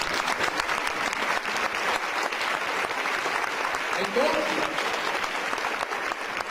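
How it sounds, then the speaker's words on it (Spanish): A church congregation applauds steadily and loudly throughout a Spanish-language Resurrection service, with a dense, sustained clapping wash and a brief voice speaking over it. "Dale un aplauso al Rey de Reyes."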